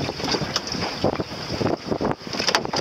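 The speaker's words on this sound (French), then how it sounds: "Ok, finalement on a le vent." Wind buffeting a sailboat during a regatta, gusty rushing noise with surging swells of roar over water, close and fairly loud, no talking.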